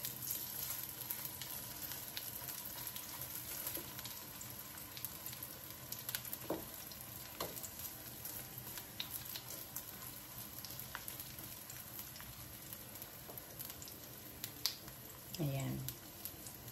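Taro cake pan-frying in hot oil, a steady low sizzle running throughout with scattered small pops and crackles, and a brief clatter of a utensil near the end.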